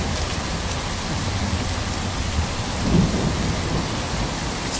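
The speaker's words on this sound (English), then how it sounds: "It's raining heavily." Heavy rain pours down in a dense, constant hiss, with a low rumble of thunder swelling briefly partway through.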